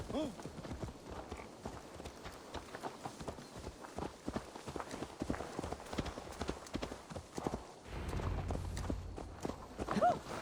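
Steady clip-clop of horse hooves walking at an even pace in Assassin's Creed Valhalla, close by and moderately loud, with a low rumble joining near the end.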